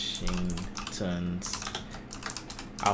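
Typing on a computer keyboard during a live stream, a quick run of soft, close clicks heard under someone talking.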